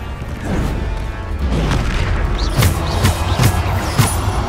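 Bombarda spell blasts from the Hogwarts Legacy video game, a string of heavy booming explosions with crashing debris, loud and close, mixed with game effects and no talk.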